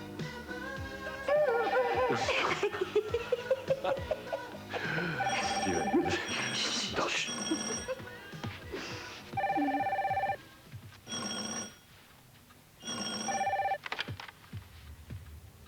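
Bursts of electronic telephone ringing repeat several times, mixed with other busy sounds and voices earlier on, fairly close and clear.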